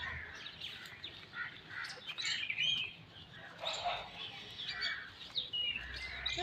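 Small chicks on a chicken farm give faint, high, repeated cheeping chirps in quick irregular bursts, with some harsher squawk-like calls mixed in over a quiet background.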